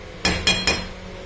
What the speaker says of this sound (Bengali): এবার ঢাকা দিয়ে দিই